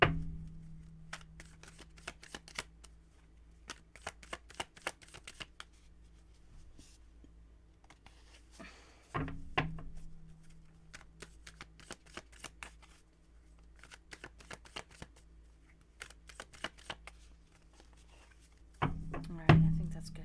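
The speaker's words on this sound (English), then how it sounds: "I want to make sure I really shuffle it a little bit longer than normally." A deck of tarot cards shuffled by hand, soft riffling and sliding taps repeating at close range, fairly quiet, with a few louder handling bumps.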